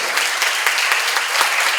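Steady, close audience applause at a church seminar, a continuous wash of many hands clapping with no pauses.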